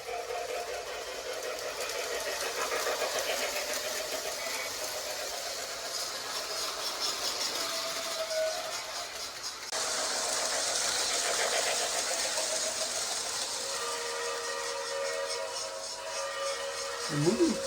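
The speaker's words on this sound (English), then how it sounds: "This engine has special rail sounds to give you the authenticity of you actually being on a ride" A steady mechanical whirring and rattling hum runs throughout from a Lionel Polar Express model electric train engine with rail sound effects, with a faint voice near the end.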